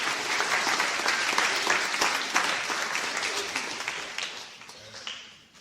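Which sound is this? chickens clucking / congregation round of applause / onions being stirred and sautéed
congregation round of applause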